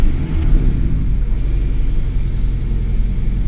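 Idle of a 2017 Porsche 718 Boxster S four-cylinder with PDK, MTM-tuned: a steady, deep, throaty rumble held close and loud throughout, with slight engine pulsing.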